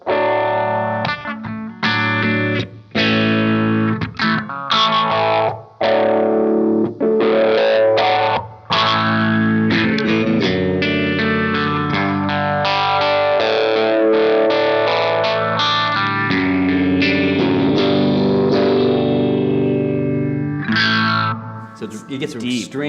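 An electric guitar plays through an EHX Small Stone phaser with its color switch engaged, giving loud, distorted chords and notes with a deep, sweeping phase swirl, first in choppy bursts and then sustained.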